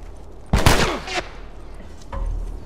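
Gunfire in The Last of Us Remastered, a couple of sharp, loud close shots in quick succession followed by a fainter distant report, over a low rumbling ambience.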